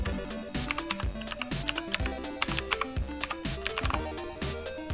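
Fingers type quickly on a computer keyboard, a close, dense run of crisp key clicks with uneven rhythm and brief pauses, heard alone without speech.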